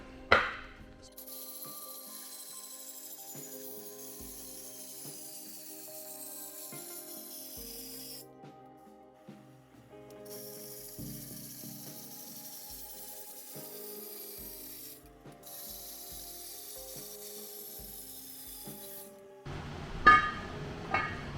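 A Sawzall blade mounted in a machine cuts a wheel barrel in a budget two-piece wheel conversion, giving a steady close grinding, scraping drone with tonal whine that pauses briefly twice before a louder clatter at the end.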